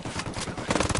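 Rapid video game gunfire in a short burst, a quick rattling run of shots that grows louder and denser toward the end, heard alone without talk.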